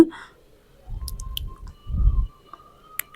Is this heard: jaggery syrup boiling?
yes